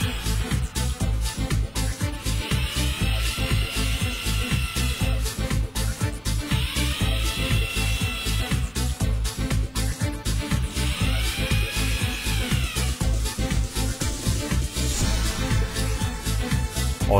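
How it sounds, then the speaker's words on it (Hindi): A power drill bores holes into marked spots on a cabinet for a tandem box drawer installation, whirring in repeated bursts of a few seconds each over a continuous background hum. "अब मार्क किए जगह पर पंच करें और ड्रिल कर दीजिए।"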